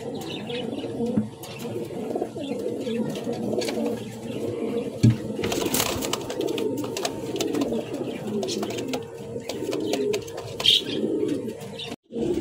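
Gorra pigeons kept for sale coo in low, throaty, overlapping calls, with scattered chirps from other birds and a brief flutter, steady and close throughout.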